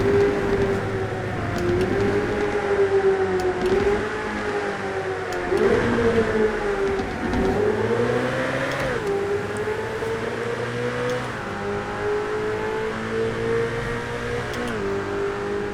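A Ferrari F8 Tributo in the racing game GTA 5 drops through the gears in a tunnel, its loud engine droning and revving up and down with blipped downshifts echoing steadily for the whole stretch, no talking.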